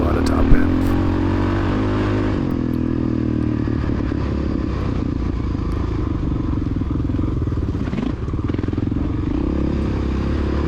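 A Honda XR600R dirt bike engine runs hard and steady at high revs, opened up across open terrain during a cross-country race, with a brief gear-change dip and a continuous loud drone.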